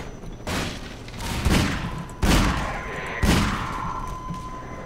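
A grenade explodes in the video game Half-Life 2, followed by several loud booming blasts spaced about a second apart, each trailing off in a rumbling decay, with no talking.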